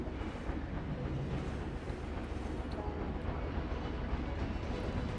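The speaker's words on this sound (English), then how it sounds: "I love hearing that train go by." In a theme park video game, a steady low rumble of a passing train rolls on without pause, moderately distant and fairly quiet, with no talking.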